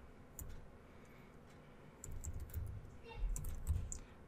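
Soft keystrokes on a computer keyboard, typing a command into Git Bash, come in short scattered bursts of faint clicks against a quiet room hum.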